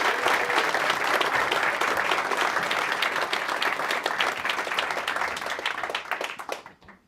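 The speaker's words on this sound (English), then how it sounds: "Please start the clapping." A stand-up comedy audience applauds a comedian, dense continuous clapping from many hands that gradually thins and fades out toward the end.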